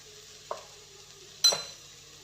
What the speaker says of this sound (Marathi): सर्व व्यवस्थित मिक्स करून घेते